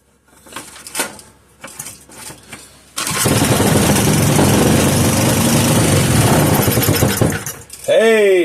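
A 3 hp Briggs and Stratton small engine, with several short pull-start bursts before it catches and runs at a loud, steady roar. The roar dips near the end, and then a voice speaks over the running engine.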